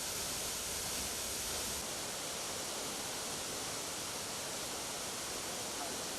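Roar of Pakyon waterfall, a 37 m high fall whose water plunges into a wide pool, heard as a steady, dense, loud rushing wash that holds unchanged from start to end with no voices.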